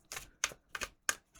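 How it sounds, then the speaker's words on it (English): Four crisp riffling bursts of tarot cards being shuffled, evenly spaced and close, with brief quiet gaps between each. "Okay, I feel like one more shuffle."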